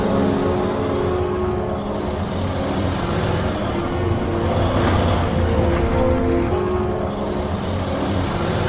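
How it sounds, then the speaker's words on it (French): A car engine drones steadily with a rumbling low hum, the pitch rising slightly as it drives along, loud and continuous throughout. "C'est la voiture de Chadri."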